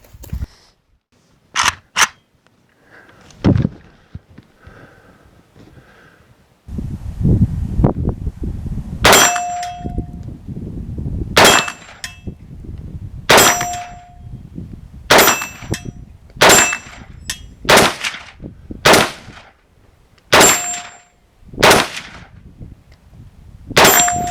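AK-74 rifle in 5.45 mm fired at steel targets: about a dozen sharp shots at a steady pace, most followed by a ringing clang from the hit plate, loud outdoors with no talking.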